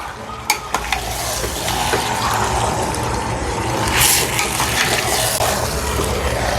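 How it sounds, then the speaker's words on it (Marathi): Mutton stir-fries in a single pot on full flame for a spicy bachelor's curry, giving a loud, steady sizzle with scraping stirs and a few clanks of the utensil against the pot. "आपल्याला मटण आहे ना फुल फ्लेमवरती छान असं परतवून घ्यायचं आहे"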